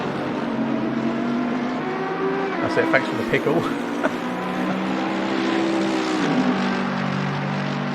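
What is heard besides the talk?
race car engines in Assetto Corsa Competizione video game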